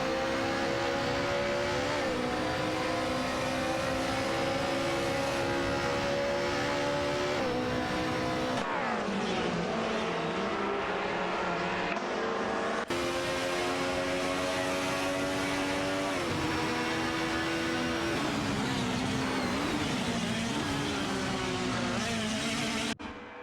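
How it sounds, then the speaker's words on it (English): Race cars in a racing video game scream around a track, engines whining in sustained tones that rise and fall through gear changes, loud and continuous with overlapping cars and no speech. "Both cars are showing impressive speed as they navigate the track"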